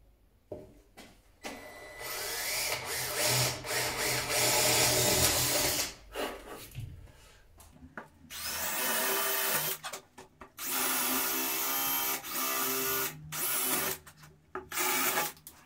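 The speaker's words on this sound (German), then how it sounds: "Und das Ganze werde ich jetzt mit der Stichsäge aussägen." An Einhell power jigsaw buzzes through wood in several long runs, stopping and restarting with short pauses between cuts, close and fairly loud.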